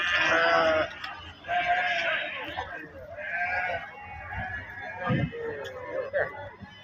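Sheep bleat repeatedly at the Kerur sheep market, several nearby wavering calls overlapping one another amid crowd noise and a brief thump.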